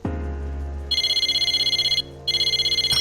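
A telephone rings in the video game Persona 4 Arena Ultimax, two bursts of bright electronic trilling after a low opening tone, loud and close with a short gap between rings.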